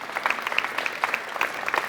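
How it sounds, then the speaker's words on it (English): A school community event audience claps in a short, scattered burst of applause, with individual hand claps standing out across the roughly two seconds. "Can you give yourselves a round of applause"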